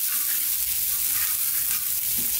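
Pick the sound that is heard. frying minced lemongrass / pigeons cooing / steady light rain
frying minced lemongrass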